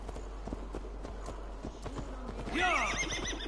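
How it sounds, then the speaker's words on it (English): A horse in the Assassin's Creed Valhalla video game trots with a steady clip-clop of hooves, then lets out a loud, shrill whinny near the end. "Horsey."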